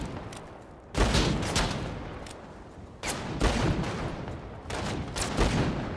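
Bursts of rapid automatic gunfire in a GTA 5 roleplay shootout, several loud volleys with brief pauses between them and no talking.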